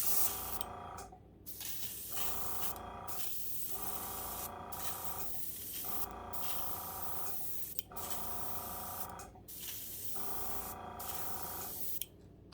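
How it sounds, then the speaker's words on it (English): Steady airbrush hissing in long bursts, roughly six sprays separated by short pauses, close and fairly quiet, spraying paint from a distance through mesh onto a homemade fishing bait. "I'm going to spray it from far away with just some mesh laid over it gently"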